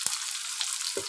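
Onions fry in hot oil in a pan with mustard seeds and curry leaves, a faint, steady sizzle broken by a few soft stirring taps.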